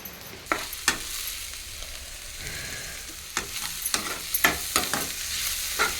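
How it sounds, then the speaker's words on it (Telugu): Onions fry and sizzle in a pan with a steady hiss, broken by scattered sharp scrapes and clinks as a spoon stirs them, close and alone with no talking. "ఉల్లిపాయలు అయితే బాగా వేగినాయి"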